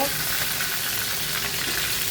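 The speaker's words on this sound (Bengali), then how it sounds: "এখন আমি অপেক্ষা করব মাছগুলো ভাজার জন্যে" Pabda fish fry in hot oil in a pan, giving a loud, dense, unbroken sizzle that holds steady from start to finish at close range.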